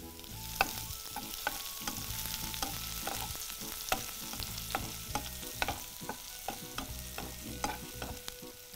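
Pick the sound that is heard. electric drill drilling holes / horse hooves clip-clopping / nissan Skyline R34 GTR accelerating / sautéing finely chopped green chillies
sautéing finely chopped green chillies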